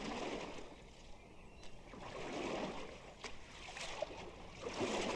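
Oars rowing a small boat on a lake, soft rhythmic strokes with gentle splashes and water swishes, faint and close.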